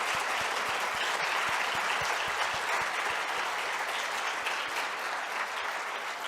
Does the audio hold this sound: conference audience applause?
yes